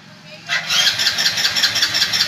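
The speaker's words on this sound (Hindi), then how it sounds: "मैं बाइक का जैसे ही यहाँ से इग्निशन ऑन करता हूं और बाइक का यहाँ से सेल्फ लेता हूं" A Hero Splendor E20 2024 motorcycle's electric self-starter cranks without catching, a loud rapid whirring that begins abruptly after a moment of quiet and churns steadily to the end.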